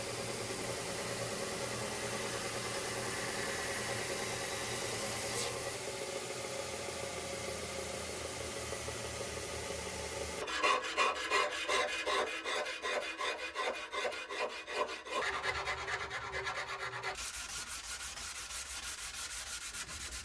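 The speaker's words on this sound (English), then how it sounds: "all I'm using is a wire wheel for grinding" Wire wheel grinding and cleaning up the edges of a spear forged from leaf spring steel, a steady rasping scrape that turns into a rapid, pulsing chatter partway through, close and alone with no talking.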